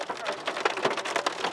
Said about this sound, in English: Look, listen to this hail, people.